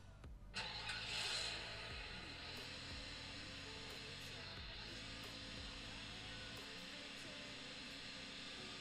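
Car engine in the Free Fire mobile game, starting up and then running with a steady drone and some shifting pitch, played on a Umidigi F1 phone; no talking.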